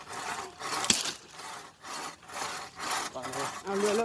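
Hand saw rasping back and forth through firewood outdoors, a steady run of rough strokes with brief pauses between pushes, close and fairly loud.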